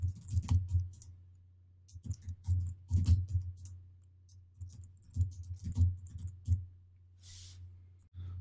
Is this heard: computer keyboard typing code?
yes